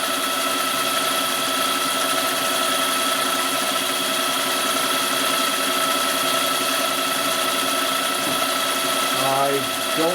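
A boring machine cuts a Harley twin cam big bore cylinder with a steady, constant mechanical whine and hum, close and unbroken, with a brief pitch change near the end.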